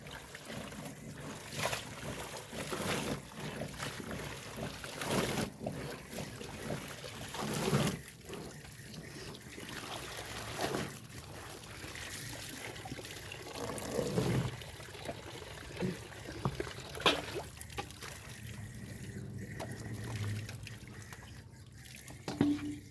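Water is poured and wrung out of hand-washed laundry, a steady run of splashing and trickling close by with uneven surges over about twenty seconds and no talking.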